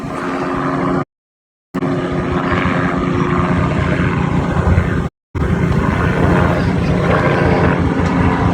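A helicopter's steady, heavy rotor drone fills the air with continuous engine noise, briefly cut out twice.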